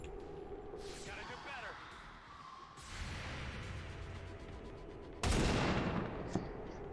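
Auto gun fire in XCOM 2 breaks out as a loud, sudden burst of rapid shots near the end, after quieter battle sounds; speech is also present.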